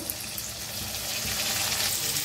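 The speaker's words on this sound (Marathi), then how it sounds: "टोमॅटो आपण छान असं भाजून घेऊया" Onion and tomatoes frying in a pan, a steady close sizzle and crackle of cooking with faint stirring, continuous and even throughout.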